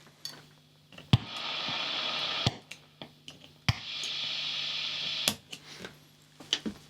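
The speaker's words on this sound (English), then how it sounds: "Just listening to the hiss on the Golden Plexi version 1 and 2," Amplifier hiss from a Tone City Golden Plexi overdrive pedal comes up in two stretches of steady hiss. Sharp clicks mark where it switches on and off, with quiet gaps between.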